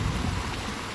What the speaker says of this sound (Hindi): यहाँ पर पानी का इतना शोर है।